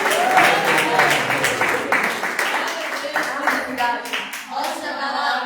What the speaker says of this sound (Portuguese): Então vamos receber a mocidade com as palmas.